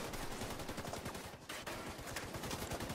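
Video game gunfire rattles in dense, rapid bursts, sustained and fairly loud with only a brief break.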